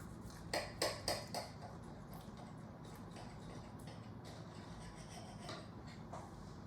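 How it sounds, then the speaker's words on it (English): A knife slicing through a loaf of banana bread on a plate, giving a few short scraping, rasping strokes near the start, then softer faint scrapes over a steady low background hum. "take your knife and cut yourself a healthy slice of banana bread"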